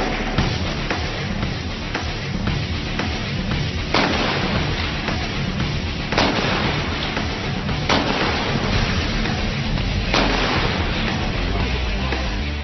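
Sniper rifle shots fired by special forces troops at a 400 m target, several sharp loud cracks spaced a second or two apart over a constant noisy outdoor background.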